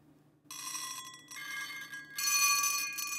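Dense stream of short synthesized grains from a granular synthesizer, sustained bright tones layered into a continuous shimmer with stereo offset between left and right, growing louder partway through.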